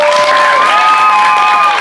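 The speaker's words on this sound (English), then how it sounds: "Give them a huge round of applause." A studio audience at a talk show breaks into steady, loud applause with a little cheering, sustained throughout the short stretch.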